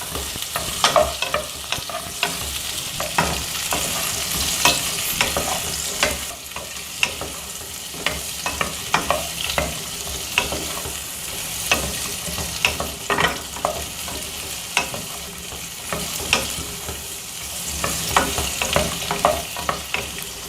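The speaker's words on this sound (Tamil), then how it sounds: "நல்லா வதக்கிக்கலாங்க" Garlic cloves, green and red chillies and curry leaves sautéing in a pan for chow chow chutney, a continuous crackling sizzle with repeated sharp taps and scrapes of a spatula, close up with no voices.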